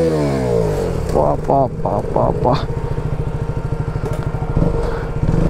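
A KTM Duke 200 BS4 motorcycle engine runs up close with a steady, rapid thumping pulse and a brief swell, while someone speaks briefly over it early on.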